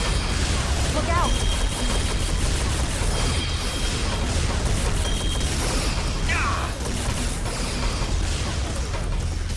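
Turrets fire in a Star Trek Elite Force II level, a dense, continuous clatter of shots and mechanical noise filling the scene at steady loudness.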